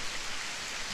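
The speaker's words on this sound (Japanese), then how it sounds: "降ってきちゃったわね、雨。" Rain sound effect from the BanG Dream Girls Band Party video game, a soft, steady hiss of falling rain, faint and continuous with no voices.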